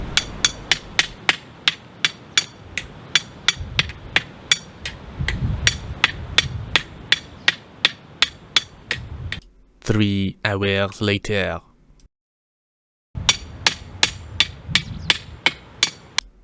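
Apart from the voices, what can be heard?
small hammer striking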